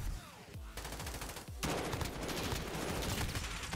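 Rapid automatic gunfire from an M4A1 rifle in the game Modern Warfare crackles in dense bursts, with a sharp louder volley midway, heard close with no talking.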